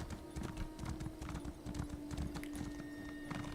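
Rapid, rhythmic clip-clop of horse hooves trotting close by in The Elder Scrolls Online, continuous over a low steady hum, with no talking.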